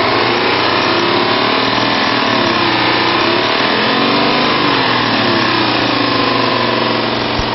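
A 2000 Chevy Suburban with a 5.3-liter V8 and automatic transmission idles steadily and loud, a continuous even engine drone with no voices.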